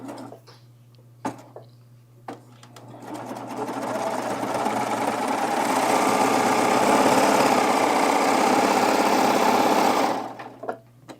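Sewing machine stitching a tunic, starting with a few clicks, then a loud steady mechanical whir that builds and runs for several seconds before stopping, close up and alone.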